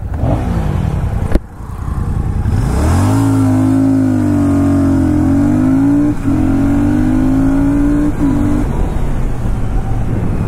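A 2024 Royal Enfield Shotgun 650 twin's engine idles and then pulls hard, the exhaust note rising in pitch through several gear changes as the bike accelerates, loud and close.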